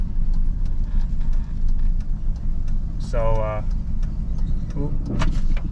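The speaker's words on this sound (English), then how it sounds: "now he's pulling me with the trailer around the corner so we can get it loaded up" A broken-down turbo truck with a knocking, blown engine and low oil pressure is towed by another vehicle pulling a trailer around a corner, making a loud, continuous vehicle rumble close by, with a brief spoken word midway.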